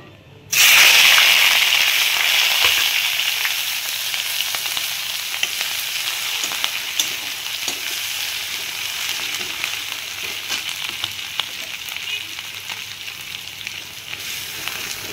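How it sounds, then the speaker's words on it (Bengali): Sliced onion and green chili hit hot mustard oil in a wok with a sudden loud hiss that settles into a sustained, crackling sizzle, slowly easing over time. "এটা একটু ভাজা ভাজা করে নেব।"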